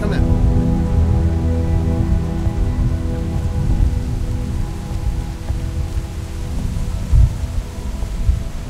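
Steady rain and rolling thunder from a thunderstorm in the video game The Walking Dead, a continuous low rumble with a louder crack near the end, under a bed of game music and occasional voices.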